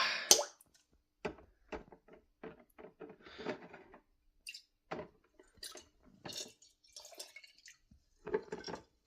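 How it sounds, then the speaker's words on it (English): Engine nuts and bolts from a Morris Marina 1.3 Deluxe drop into a container of soaking liquid, a scattered series of small plops, clinks and drips, close and quiet with pauses between. "So, all nuts and bolts goes in this."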